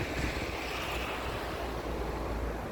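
Sea waves washing ashore at a seaside caravan campsite near Yeniköy, Karacabey, Bursa, a steady broadband surf hiss mixed with wind buffeting the microphone, continuous and fairly close with no talking.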